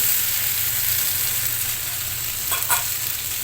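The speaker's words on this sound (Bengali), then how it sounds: "দেখুন, আমি ফোড়নের উপর ভেন্ডিগুলোকে ভালো করে ভেজে নিয়েছি।" Okra sizzles steadily in a pan over a mustard-seed tempering, a close, even frying hiss with a brief stir or clatter near the end.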